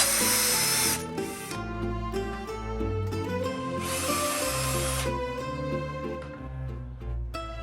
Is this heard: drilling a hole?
yes